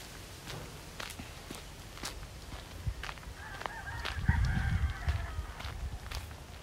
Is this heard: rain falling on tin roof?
no